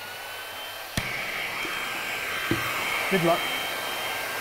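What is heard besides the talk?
heat gun shrinking heat shrink tubing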